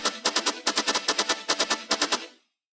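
Layered, stretched and pitch-mapped samples played together in an electronic remix, a quick burst of sharp, bright stuttering hits in rapid groups that cuts off abruptly into silence, loud and close, with no voice.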